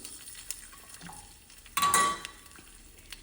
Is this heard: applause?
no